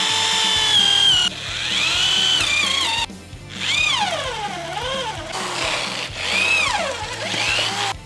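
A cheap Hyper Tough corded electric drill whines loudly, its pitch rising and falling as it bites in, with short pauses and restarts throughout.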